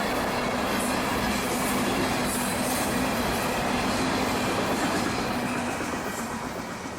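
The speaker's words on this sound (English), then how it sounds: "the Tropicana juice train with an EMD leader and making maximum" A freight train led by an EMD diesel locomotive rolls past at speed with a steady heavy rumble, rattling wheels and a low engine drone, loud and continuous throughout.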